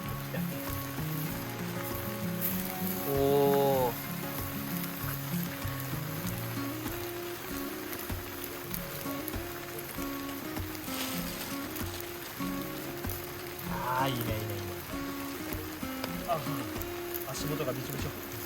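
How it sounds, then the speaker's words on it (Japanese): Rain falls on a campsite at Urabandai around a campfire, a constant patter and hiss beneath people chatting close by throughout. "ここ雨入って。"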